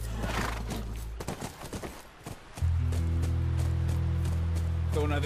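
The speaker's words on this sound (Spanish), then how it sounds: "Es nuestro caballo. Debe estar ahí." In the video game The Last of Us, a horse whinnies clearly and its hooves clop. A steady, loud galloping rumble then takes over for the rest of the clip.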